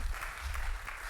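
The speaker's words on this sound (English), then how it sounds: "Let's clap for you." Classroom clapping for a student who has just answered, a short round of applause from a group of pupils, close and fairly even, with low background rumble underneath.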